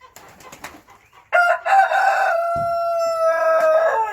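Chickens and a rooster crow inside a large coop, a loud sustained cock-a-doodle-doo rising over scattered clucks and short calls, close and clear with no talking.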